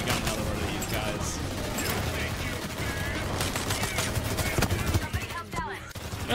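Rapid gunfire in Payday 3 during a bank robbery shootout, dense bursts of automatic shots crackling continuously, loud and close, with a voice talking over parts of it.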